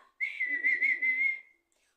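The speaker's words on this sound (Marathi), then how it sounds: "दादाचे मित्र अशी शिट्टी वाजवतात" A person whistles a call signal, one sustained high whistle with slight wavering pitch lasting just over a second, close and clear with no talk.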